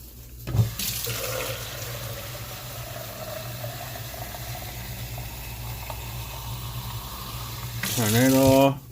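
A kitchen tap runs in a steady, close gush while a pot fills with water for a ham and cabbage dish, and a brief voice comes in near the end.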